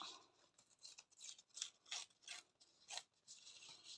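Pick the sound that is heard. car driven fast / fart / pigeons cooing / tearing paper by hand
tearing paper by hand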